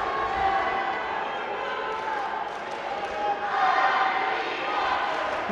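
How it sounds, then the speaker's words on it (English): Crowd at a European Under-23 judo championship in Samokov, Bulgaria, roars and cheers steadily for a home Bulgarian fighter, a dense sustained arena din with swells of excitement, under commentary. "every movement this Bulgarian makes, the crowd are up off their seats"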